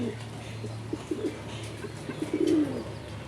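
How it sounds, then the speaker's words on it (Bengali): A male pigeon of a large traditional breed coos in soft, low repeated rolls, growing louder and fuller near the end, with quieter bird sounds and faint background noise around it. "নরের ডাক স্টার্ট হয়ে গেছে।"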